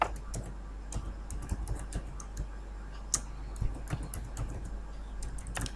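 Fingers type on a computer keyboard in Microsoft Excel, producing steady, uneven clicking keystrokes over a low background hum, with a few louder taps.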